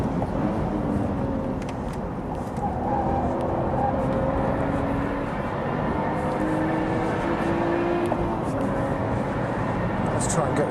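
A Lotus Evora Sport 410 engine drones steadily on a race track, its tone rising as it revs out through the gears, with people talking over the in-car noise throughout.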